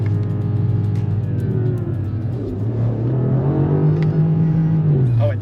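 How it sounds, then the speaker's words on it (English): A BMW XM SUV at full throttle, its engine note rising steadily as it accelerates hard, loud and close with a deep continuous rumble and a climbing pitch. "So we'll do like a full throttle pull here."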